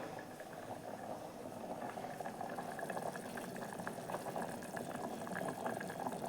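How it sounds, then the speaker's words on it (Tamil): A thick chapati kurma gravy bubbles and boils in a pot, a continuous burbling simmer with soft pops, fairly quiet and steady. "எப்படி கொதிச்சிட்ருக்கு பாருங்கள்"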